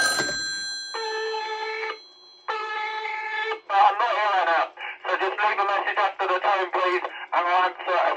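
A telephone on a vintage answering machine rings in two clear, sustained bursts, and then a voice speaks at length in bright, tonal phrases.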